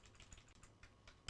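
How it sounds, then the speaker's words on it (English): Someone types on a main computer keyboard during a custom PC build test, producing a quiet, irregular patter of key clicks with a louder final strike, no talking. "That's my main keyboard. See that works or not."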